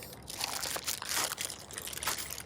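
Crinkling and crunching of plastic packaging as the cover is pulled off a Hosim X06 1/10 scale RC truck during unboxing, a close, quiet, continuous rustle with no talking.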